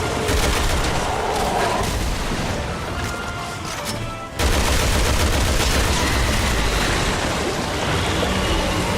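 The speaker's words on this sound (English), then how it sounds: "I'm not sure who's shooting at me" Constant gunfire rattles through Resident Evil 6 gameplay, a dense, loud wash of shots and crashing noise that cuts out briefly near the middle before surging back just as heavy.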